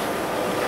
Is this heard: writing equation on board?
no